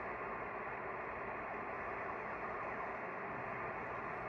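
Shortwave radio static and interference hiss steadily from a Drake TR-4C transceiver tuned across an empty band, a dense, unbroken wash of noise with no voices.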